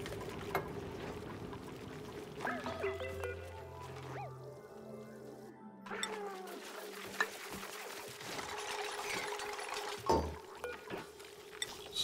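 Water fills an area in the video game Oxygen Not Included, a soft pouring and bubbling wash under sustained tonal game music and occasional chimes.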